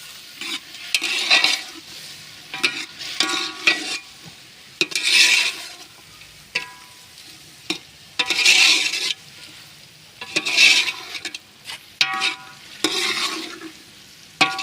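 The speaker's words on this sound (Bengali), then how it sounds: "এই যে সবজিটা এখন ফ্রাই করা হচ্ছে তেল তেল দিয়ে আমরা ফ্রাই করে নিচ্ছে" Vegetables frying in oil on a stove, with bursts of loud stirring and scraping against the pan over a lighter sizzle, coming in uneven rhythmic waves close to the listener.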